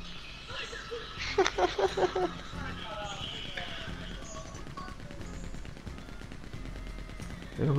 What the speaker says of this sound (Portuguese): Tô escutando puta de um tiroteio